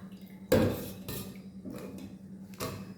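Raw jackfruit pieces being washed in water in a cooker pot, with a few sharp clattering knocks of pieces and vessel at irregular intervals over a low steady hum.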